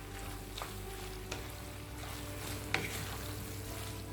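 Macaroni gets stirred in a pan with mozzarella cheese and butter, producing soft, faint scraping strokes and light taps over a low sizzling background, spaced a second or so apart.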